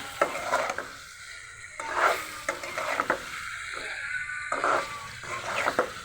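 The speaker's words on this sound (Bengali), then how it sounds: "আমের আচারটা আমি নেড়ে দিচ্ছি" A spoon stirring raw mango pickle in a pan with vinegar, close and fairly loud, giving repeated scraping sweeps with a light sizzle underneath in an uneven back-and-forth rhythm.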